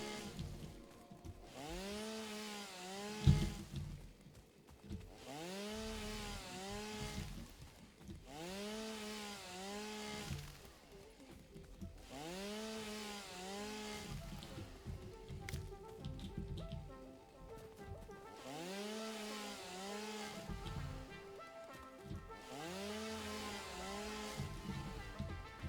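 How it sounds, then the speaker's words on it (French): Chainsaw cutting trees in the factory-building game Satisfactory, revving in repeated bursts of a few seconds each, about six cuts with brief pauses between, steady and fairly loud with no talk over it. "Oh, heureusement qu'on a la tronçonneuse."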